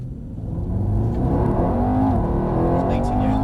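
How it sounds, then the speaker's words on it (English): A Mercedes accelerates hard from a standing launch on a track, its engine rising steadily and loudly over about three seconds, with a voice talking over it. "Literally just nail the throttle."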